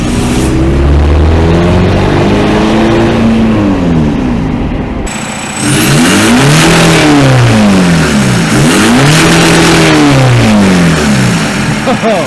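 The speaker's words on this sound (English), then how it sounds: "you can hear it hit limiter" A turbo diesel TDI car engine revs repeatedly, its pitch climbing in sweeping arcs up to the rev limiter and dropping back, loud and close, with a brief dip midway.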